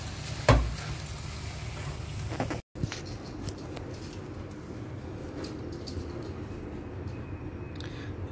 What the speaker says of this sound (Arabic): بنحط الرز، بنقلب لحتى شوي تستوي